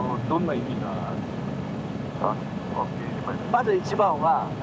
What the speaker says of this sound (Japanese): こうやってヘリで移動するっていうのは